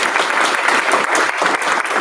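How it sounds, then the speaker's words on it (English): An audience at an intern symposium gives a short burst of clapping. It is close and loud, made of quick overlapping claps, with no one speaking. "Round of applause"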